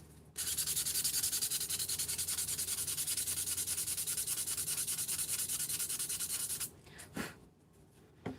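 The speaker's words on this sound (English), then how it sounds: "This one I might need to sand a little bit." A small wooden kit piece being sanded by hand, a loud, fast, continuous rasping scrub held close for several seconds before stopping abruptly, followed by a couple of faint knocks.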